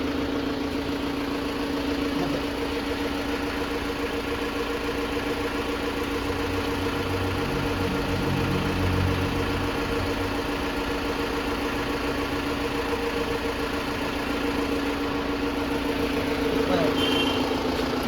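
A 2022 Mahindra Bolero pickup with a 1.7-litre engine idles steadily at close range, a continuous low, even rumble that runs the whole time with no revving.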